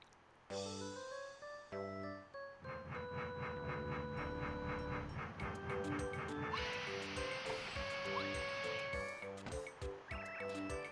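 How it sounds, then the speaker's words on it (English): Paper Mario game music for an arriving train, with a train horn woven into the tune alongside steam hiss and rolling rail sounds, moderately loud and continuous with layered melodic notes. "I love that they made the train horn part of the song"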